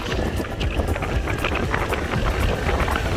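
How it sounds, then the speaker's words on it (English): Strong wind buffets the microphone in a constant, loud rumbling roar that never lets up. "it's so windy and so cold"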